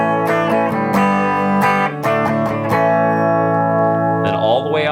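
An electric guitar with a 50s-style tone control rolled halfway plays through an Acoustic Control Core 117 amp, ringing chords struck repeatedly and then held to sustain, loud and close.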